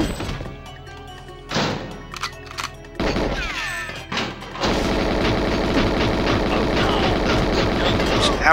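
Grenade explosion in the GoldenEye 007 video game: a sharp burst is followed by a loud, sustained rumbling blast. Scattered impacts and game sounds come before it, and voices are present.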